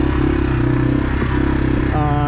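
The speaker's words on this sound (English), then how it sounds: "This kind of terrain, the TW does really well, just putting through, really." A Yamaha TW200 motorcycle putters over very rocky terrain, its engine thrumming low and steady up close with a brief knock or clatter midway and a rising rev near the end.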